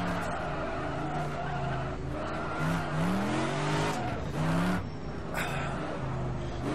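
Tires squeal and skid on an AC 427 Shelby Cobra braking hard in rFactor 2, rising and falling in wavering pitch over a steady engine drone, loud and close with no talk.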